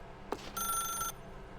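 A telephone rings once in The Stanley Parable video game, a short electronic bell burst with a steady tone, clear and close, preceded by a brief click and followed by quiet.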